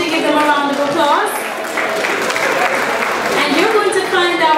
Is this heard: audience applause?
yes